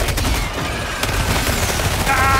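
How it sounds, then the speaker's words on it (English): Rapid Gatling barrage gunfire in a video game, a dense, continuous stream of loud, close shots running the full length with no pauses. "I got my Gatling barrage."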